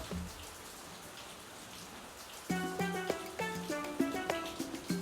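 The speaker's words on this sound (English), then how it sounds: "it's raining cats and dogs" Soft, steady rain hisses in the background; about halfway through, clear ringing tones start up over it in an uneven rhythm.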